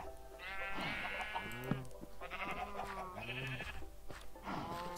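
Several sheep in the game Minecraft bleat in quick succession while being sheared, loud close wavering calls repeating every second or so with short gaps between them.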